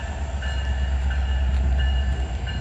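A slow Union Pacific freight train hauling boxcars rumbles past a crossing with heavy low-end drone and faint wheel and bell-like tones, continuous and fairly close, with no voices.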